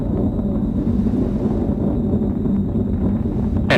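Atlas V rocket with RD-180 engine and twin solid rocket boosters roaring during ascent from Cape Canaveral, a steady, dense low rumble that continues unbroken, heard alone without talk.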